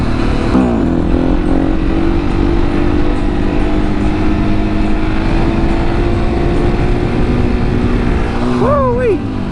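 A KTM 701 sportbike or supermoto engine drones steadily at speed on a road, with wind rushing throughout and a rising rev sweep near the end; someone talks over the engine noise.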